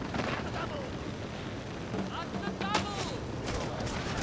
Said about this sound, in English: We're shooting at these guys in the walls now.